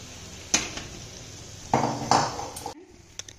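A metal pot set down on a kitchen stove while cooking tomato soup, a few bright clanks and clinks, close and moderately loud, then quiet.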